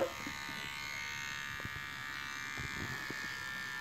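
A battery-powered electric clipper buzzes continuously while trimming the leg fur of a female guinea pig during hygiene grooming, close and steady with faint handling bumps underneath.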